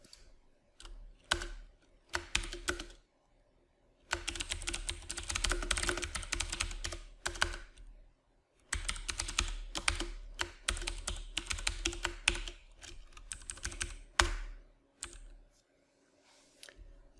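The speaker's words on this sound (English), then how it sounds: "I'm going to type in the function and provide the age variable as an argument." Typing an R function on a computer keyboard: bursts of quick, light key clicks with short pauses between them, close and alone.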